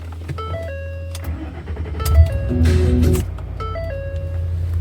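A car engine cranks and starts, then runs at a steady idle with a low drone and a brief rev in the middle, heard close with faint electronic chimes over it and no talking.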